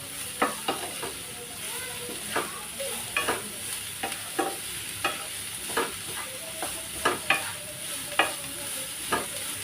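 Finely chopped chicken tossed and stirred in a hot pan, with a string of sharp spatula clicks and scrapes at an uneven rhythm over a soft, steady sizzle, close and moderately loud.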